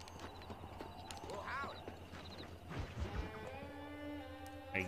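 Horses in Red Dead Redemption, with clip-clop hooves and a brief whinny amid farm animal sounds, fairly quiet beneath shouting voices.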